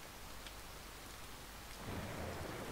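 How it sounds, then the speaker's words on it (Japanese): Rain and thunder in the video game A Bird Story: a steady wash of rainfall with a low rumble that swells near the end, heard alone. "雨降ってきたね。"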